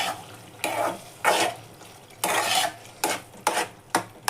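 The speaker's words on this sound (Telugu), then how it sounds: "ఈ స్టేజ్లో నేను కుక్ చేసుకున్న కందిపప్పుని యాడ్ చేసుకుంటున్నాను" Cooked toor dal being added to a pan and worked in, with a series of distinct spoon scrapes and clanks against the metal, some bursts longer than others, over a quiet background.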